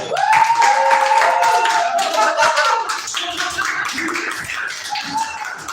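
An audience claps and whoops for an improv comedy troupe taking the stage, a steady round of applause with bright vocal cheers riding on top near the start, easing off slightly toward the end.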